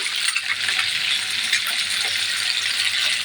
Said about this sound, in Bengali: এই যে আমার মাছগুলো ভাজা হয়ে যাচ্ছে